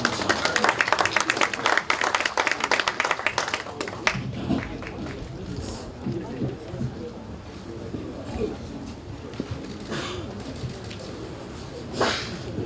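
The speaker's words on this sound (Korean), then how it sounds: "네, 박수로 맞아주십시오." Lawmakers at a party general assembly applaud to welcome party leader Lee Hae-chan. Dense, lively clapping fills the first few seconds, then thins into room murmur and voices.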